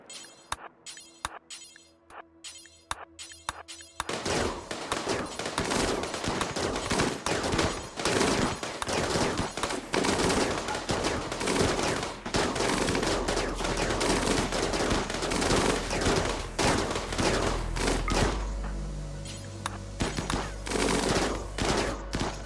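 Zombie fight in RimWorld with gunfire: sparse single shots at first, then dense rapid machine-gun bursts and fusillades that continue loudly, joined by a low rumble later on.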